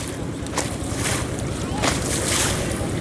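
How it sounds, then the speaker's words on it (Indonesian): An old boat on the Musi river in Palembang passes close by, its engine rumble and water wash steady under wind buffeting the microphone, while people chatter nearby. "Ada kapal."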